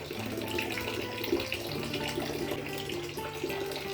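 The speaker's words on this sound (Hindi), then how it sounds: "इसमें मैंने डाला है गर्म पानी" Steady running hot water pours continuously, with a soft rushing hiss and faint gurgling, close by and without any talking.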